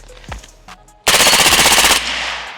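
A rifle with an overgassed bolt carrier group fires a rapid, loud automatic burst of about a second, sharp repeated cracks with a ringing tail, after a few faint clicks and handling sounds.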